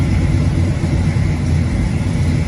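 A steady car motor runs loud and close throughout, a dense low rumble with an even mid-range hum and no pauses or voices.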